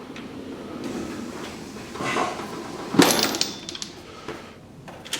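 A toolbox drawer slides open with a muffled rumble that builds into a sharp metallic clatter and rattle, then settles into quiet handling noises.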